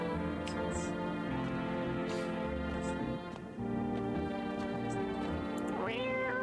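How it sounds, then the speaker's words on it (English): A cat in a video game meows a few times over a steady layer of game music and ambience, the calls short and close. "We're gonna pet this cat."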